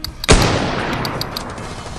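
A toy sniper gun that fires soft bullets goes off once with a single sharp, loud crack, followed by a short fading tail and a few faint ticks in a quiet room.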